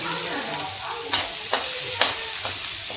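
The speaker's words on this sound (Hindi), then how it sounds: "ये प्याज फ्राई करते हैं" Onions fry with cumin in a kadai, a steady bright sizzle that stays close and continuous, broken by a few sharp scrapes and clinks of a stirring spoon.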